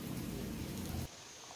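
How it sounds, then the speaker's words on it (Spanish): A heavy rain downpour gives a dense, broadband wash of noise, fairly faint and steady, that cuts off abruptly about two-thirds of the way through, leaving a quieter background. "Se cerró a llover también ahí, porque ustedes ven que se pegó un aguacero."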